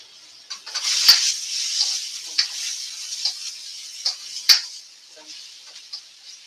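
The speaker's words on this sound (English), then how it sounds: "And sizzle, sizzle behind you" Shrimp and onions frying in a pan for a Brazilian shrimp and hearts of palm dish, a steady close hiss with scattered sharp pops and ticks from the spattering oil and no talking.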